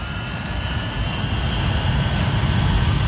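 A jet airliner's engines give a steady, broad roar with a faint high whine, holding constant and swelling slightly louder toward the end, with no voices.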